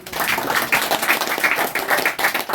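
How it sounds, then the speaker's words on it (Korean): Audience clapping after a lecture on well-being and well-dying at a history and culture forum, a dense, steady patter of many hands that holds at an even level throughout. "박수 한번 칩시다"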